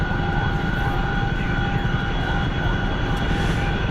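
An aircraft engine drones steadily in flight in a combat flight video game, a loud continuous roar with a sustained tonal hum and no break.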